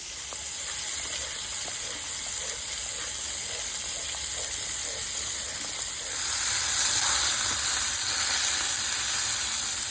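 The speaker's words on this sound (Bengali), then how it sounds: "পেঁয়াজ বাটাটা একটু ওই মাংসের সাথে ভাজা করে নিয়ে দই ঢেলে দেবো" Meat sizzles in a pan with onion paste, a bright continuous hiss and crackle of frying that swells louder in the last few seconds, with occasional stirring.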